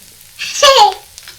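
Kokum dropped into hot Malvani masala for a dry fish dish gives a short, sharp burst of sizzling that swells loud and then settles back to a faint crackle.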